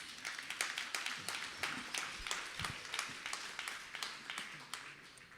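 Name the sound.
audience applause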